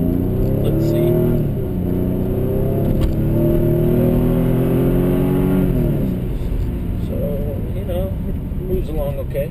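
A Mercedes C32 AMG engine hums and rises in pitch on a test drive, a steady close drone with a climbing rev and then a fresh pull near the end, plus wind and road noise around it.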